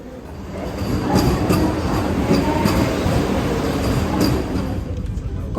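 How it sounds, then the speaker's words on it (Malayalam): Ambient rumble of a Vande Bharat train at a station platform, a steady broadband roar with faint clanks and a few brief high squeals, moderately loud and continuous throughout. "ഞാനിപ്പോൾ വന്ന ട്രെയിനാണ് കേട്ടോ ആ കിടക്കുന്നത്."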